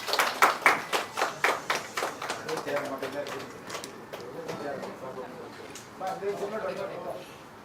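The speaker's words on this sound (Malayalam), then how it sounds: "പ്ലീസ് ഒരു വലിയ കൈയടി കൊടുക്കും പ്ലീസ്." A crowd at a Malayalam talk event claps, with a strong burst of rhythmic hand claps at the start that thins into scattered, softer applause and fades toward the end.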